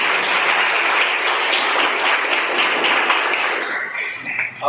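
Loud, dense audience applause fills the room for several seconds, then thins and fades out near the end.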